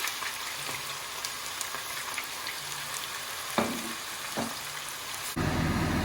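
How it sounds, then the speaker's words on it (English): Onions frying in oil in a pan for Kerala chicken biryani, a steady close sizzle with a few clinks of stirring, then a louder rush of hissing near the end. "We have to fry these onions till it becomes crispy and golden brown"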